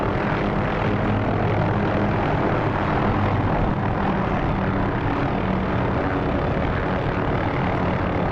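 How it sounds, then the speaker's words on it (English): A loud, steady OH-6 helicopter engine in the flight simulator DCS World drones with a constant whirring roar that fills the whole clip without letup. "I'm going to go ahead and bring the throttle back down."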